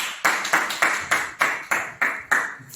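One person clapping hands alone, eight or nine crisp, evenly spaced claps at a slow steady pace, close and clear with no other sound.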